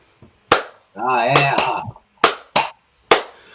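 Someone does his James Worthy clap: a few sharp, close hand claps in a quick pattern, with a short spoken exclamation between them.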